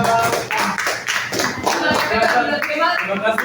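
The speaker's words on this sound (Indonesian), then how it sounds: "Beri tepuk tangan untuk kelompok 4." A classroom group claps for a group presentation, a brief burst of dense, close applause mixed with voices.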